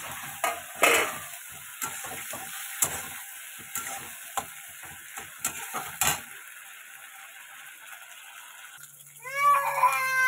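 Pointed gourd (potol) frying in oil in a home kitchen: a steady sizzling hiss runs under repeated clicks and scrapes of stirring for about six seconds, then a quieter hum with a brief squeaky burst near the end.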